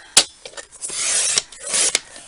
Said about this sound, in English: you bring in your cutter, and then you cut it in half